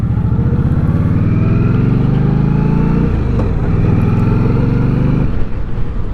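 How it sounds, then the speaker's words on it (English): A motorcycle being ridden at steady speed, its engine droning loud and continuous throughout, with a brief dip in pitch midway as if shifting, then settling back to a constant throbbing note. "I do like this bike that I'm riding"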